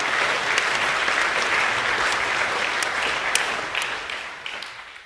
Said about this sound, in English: So a round of applause for Mr. Kaplik, please.